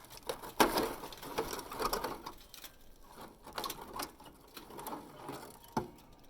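Sheet metal screws coming out of a wood stove chimney hood, a close, busy run of small mechanical whirring and clicking bursts, uneven in rhythm, with no talk over it.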